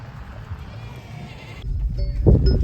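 A sheep bleats loudly near the end, after a stretch of low rumbling background noise with faint voices, during a Kadugolla shepherds' rare sheep-calling ritual.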